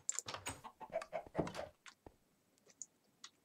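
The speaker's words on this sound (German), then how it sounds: "Wer hat diese Hühner bei mir?" In Minecraft, chickens give a few short, faint clucks and rustles close by, in quick bursts that trail off into near silence.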